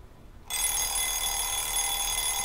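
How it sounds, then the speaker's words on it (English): An alarm clock in the visual novel Nameless bursts on after half a second of near silence, a loud, continuous electronic ringing that holds steady to the end with no voices. "I opened my eyes at the alarm."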